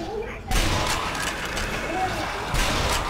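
Gunfire in the zombie shooter Sniper Elite: Nazi Zombie Army, loud bursts of shots that start abruptly and keep rattling, with a fresh burst near the end, while players talk over it.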